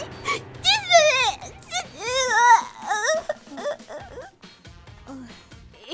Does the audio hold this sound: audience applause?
no